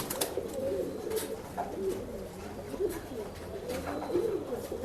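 Pigeons cooing repeatedly in a Bangalore pet shop, soft low rolling coos overlapping from several birds at close range, with faint background clatter and no talk.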